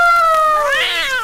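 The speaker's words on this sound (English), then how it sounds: "All except Lucifer the cat." Lucifer the cat from Disney's Cinderella on a 1949 RCA Victor vinyl record gives a single drawn-out, whiny meow that rises and bends, loud and close, with no talk over it.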